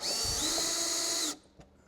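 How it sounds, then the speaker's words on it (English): A power drill with a screw bit drives a screw to mount a Fusion Oxi-Gen system, a steady high whine running loud for just over a second before cutting off abruptly into near silence with a faint click. "So let me get a bit and we'll screw this in."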